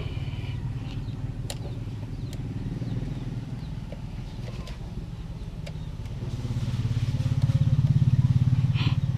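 A Yamaha Mio i 125 scooter engine idles after a throttle body cleaning, a steady close putter that rises toward the end as the throttle opens slightly, with no talking.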